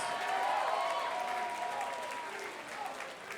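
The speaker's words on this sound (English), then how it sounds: "a nice round of applause for 6 solid rounds of action" Crowd applause in a boxing venue after a six-round bout, a continuous moderate wash of clapping and cheering, somewhat distant and fading slightly toward the end.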